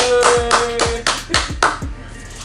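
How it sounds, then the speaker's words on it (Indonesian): Several hand claps ring out close up in a quick, uneven burst, a few sharp slaps over about two seconds during an Air Jordan sneaker unboxing in Jakarta, Indonesia. "Tepuk tangan dulu dong."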